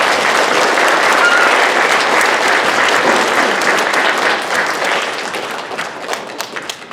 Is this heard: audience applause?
yes